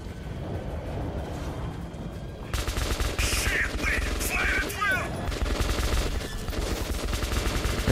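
A minigun in Metro 2033 Redux opens up into sustained rapid fire, a dense continuous rattle running for several seconds, with other battle noises layered on top.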